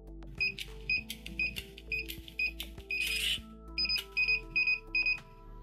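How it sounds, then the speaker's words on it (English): A series of short, high electronic beeps from an electronic door lock in quick bursts, with faint keypad button presses and a brief buzz in the middle. "You will hear the unique 8-beep combination letting you know you have entered program mode."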